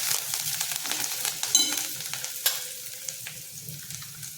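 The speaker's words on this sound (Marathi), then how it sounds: "कांदा बघा थोडा भाजला आहे" Chopped onion and coriander roasting in a pan for idli fry, a crackling sizzle with irregular spatula knocks and scrapes, close and soft, fading slightly toward the end with no talking.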